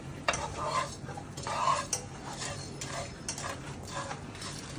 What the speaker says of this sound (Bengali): খালি খোলাতে ভেজে এটা এবার মিক্সিতে দেবো